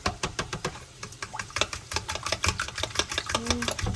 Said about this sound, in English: whisk these up so they're nice and airy and fluffy